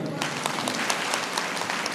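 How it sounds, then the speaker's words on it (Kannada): An audience at a meditation gathering in Tumakuru applauds loudly, with dense, continuous clapping filling two seconds and a voice audible beneath it. "ಜೋರಾಗಿ ಚಪ್ಪಾಳೆ."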